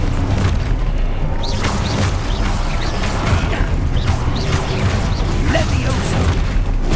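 An Exposo explosion spell goes off in Hogwarts Legacy amid a dense, loud wash of blasts, crashes and mechanical clanking that stays steady throughout.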